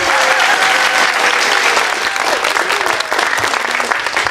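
A large audience applauds and cheers continuously and loudly, a dense wash of clapping with a few voices rising above it throughout.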